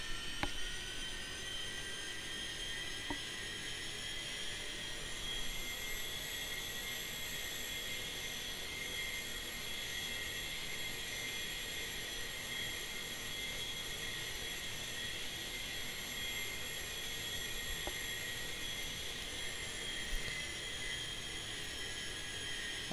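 An A-4E Skyhawk in DCS World taxis with its jet engine giving a steady, high-pitched whine and a constant roar beneath it. The whine rises slightly in pitch partway through, then holds. No one speaks.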